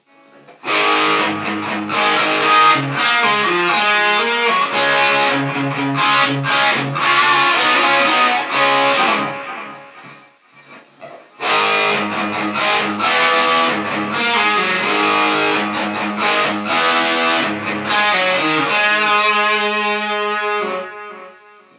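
Overdriven electric guitar through a Tube Screamer drive pedal on a Sonicake Pocket Master modeler, playing chords and riffs, loud and sustained, with a brief pause midway before resuming.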